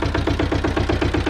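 Goldoni Joker 8DS walking tractor fitted with a rotary tiller, its engine running steadily close by with a loud, rough, rhythmic mechanical chugging throughout.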